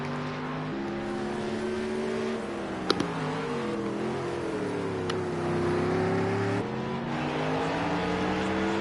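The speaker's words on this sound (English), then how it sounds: "Some lovely engine sounds from the Mercedes-Benz AMG GT." Mercedes-Benz AMG GT race car engine in a Project CARS 2 GT3 qualifying session, a loud sustained howl that rises and falls through gear changes with a few sharp shift clicks, continuous and close.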